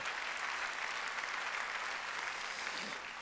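A church congregation at a Sunday service applauds in a dense, steady wash of clapping hands that fills the room from start to finish without pause.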